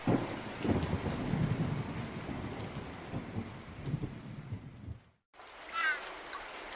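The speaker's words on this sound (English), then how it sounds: "A lot of rain fell in the forest." Heavy rain falling steadily in a forest with deep rumbling thunder, played as a storm sound effect; the downpour cuts out abruptly near the end before a short bird-like chirp.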